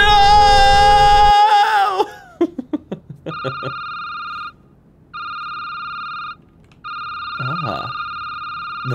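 A telephone rings in the video game Security Booth: Director's Cut, a repeating electronic tone in evenly spaced bursts with short gaps, heard after a loud chaotic passage and a few sharp knocks.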